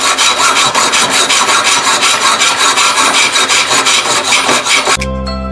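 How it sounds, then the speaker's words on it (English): Hacksaw cutting through part of a junk metal meat grinder, steady rapid back-and-forth rasping strokes, loud and close, continuing for about five seconds before stopping abruptly. "Just gonna cut this bit off with my hacksaw."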